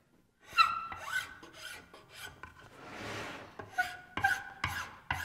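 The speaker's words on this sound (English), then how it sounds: "this is a brand new file" A brand-new file rasps across wood in a series of close, uneven strokes, each a scratchy rub with a faint squeal, including one longer, smoother pass in the middle.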